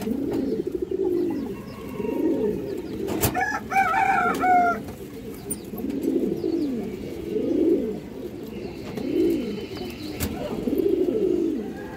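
Black-necked pigeons coo in repeated rhythmic rolling phrases, close and clear, with a brief crowing call from a rooster partway through.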